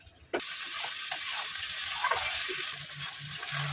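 A spice masala with prawns for chingri malaikari bursts into a loud sizzle as it hits the hot pan, then keeps a steady hiss with occasional stirring scrapes.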